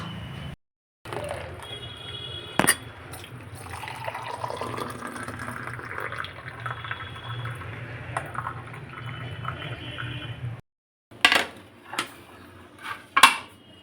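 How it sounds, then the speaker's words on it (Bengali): Tea is poured into a cup at home, a soft continuous liquid trickle running for several seconds, followed by a few sharp clinks of crockery near the end. "বাবা চা তো পুরো ভর্তি গো, পড়ে যাবে বাবা"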